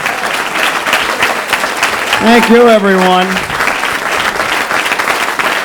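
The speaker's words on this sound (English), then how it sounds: "Please, a nice round of applause" A live audience claps for a comedian at a 1989 stand-up show in his hometown, a dense, steady roar of hands lasting the whole stretch while someone briefly speaks over it.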